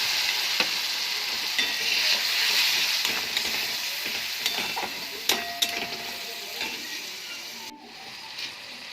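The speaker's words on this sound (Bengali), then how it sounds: "ভালো করে ভাজা হয়ে গেলে পেঁয়াজটা, আদা রসুনের পেস্টটা দিয়ে দেবো।" Onion frying in a pan, about to be joined by ginger-garlic paste for a spicy prawn curry: steady close sizzle with scraping stir strokes and occasional spatula clacks, a brief drop near the end before the sizzle resumes.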